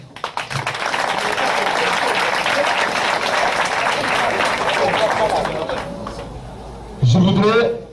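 Audience applause fills a public event hall, a sustained wash of many hands clapping steadily, with a sudden louder burst near the end.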